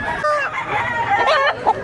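A fighting gamecock rooster at a pet market behind a public market crows and clucks nearby in short, rising calls, with faint market bustle behind it.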